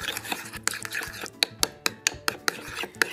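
A utensil scrapes and taps against a bowl while a hair mask of mayonnaise and olive oil is stirred, giving a fairly regular run of sharp clicks over soft, wet mixing noise, close and moderately loud.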